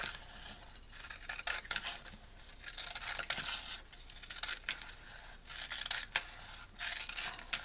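Scissors cutting washi tape for a homemade diamond painting, a series of soft, close snips and scraping rustles spread irregularly across the span.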